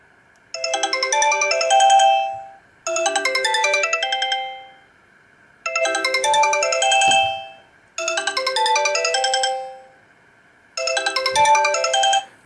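A Sony Xperia Tipo Dual ST21i2 ringtone plays loudly through its speaker at maximum volume in five repeated bursts of bright, chiming notes, each fading before the next begins.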